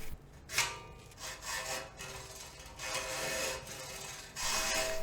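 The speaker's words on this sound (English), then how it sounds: "I prefer the hacksaw method to get things started." Three hacksaw blades stacked in one frame cut a notch in metal frame tubing, giving rough rasping strokes in short uneven bursts, close and fairly quiet, with small pauses between them.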